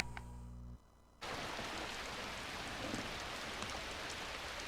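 Rain falls as a steady, fairly faint broadband hiss that starts suddenly after a short humming lead-in and continues evenly with no voices.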